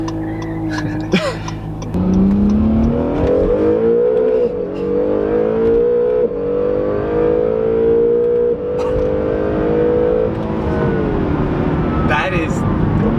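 A high-performance sports car with electric motors and a turbo accelerates hard, its loud engine tone climbing steadily and holding close and continuous for several seconds, with brief tire noise early on.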